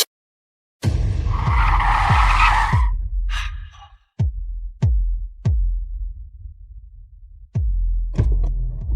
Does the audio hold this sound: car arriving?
yes